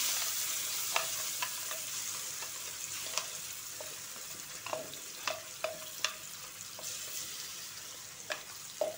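Ground flat bean paste fries in a pan tempered with nigella seeds, a soft continuous sizzle punctuated by regular light stirring scrapes and taps throughout.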